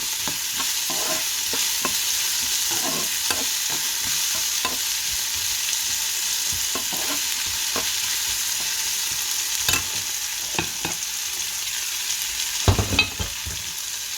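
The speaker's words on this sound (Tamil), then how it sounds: "வெங்காயம் வதங்கிட்டது" Onions and curry leaves fry with fenugreek seeds in a pan for a drumstick curry. A loud, constant sizzle carries on throughout, with repeated spatula scrapes and taps, a few firmer ones near the end.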